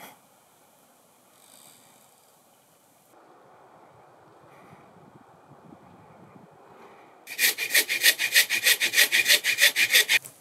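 A hand saw cuts through a fallen tree in a forest in a quick, rhythmic series of loud rasping strokes, preceded by quieter rustling outdoors.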